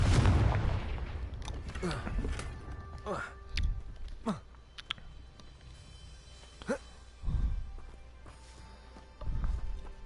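Confringo fire-blast spells go off in the Hogwarts Legacy video game as sharp explosive booms with whooshing tails, several separate bursts over a low game ambience, with a voice talking between them.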